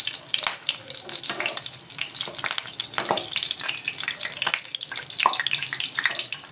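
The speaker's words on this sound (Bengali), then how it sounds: "এই যে পাউরুটির টুকরোগুলো ভেজে নিচ্ছি, লালচে করে ভেজে নিচ্ছি" Pieces of bread fry in hot oil and ghee in a pan, giving a crackling sizzle with bursts of spitting and the scrape of turning, continuous and close.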